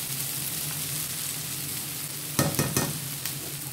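Masala paste and onion frying in oil in a Kerala-style prawn dish, a steady close sizzle with a few sharp scraping stirs near the end.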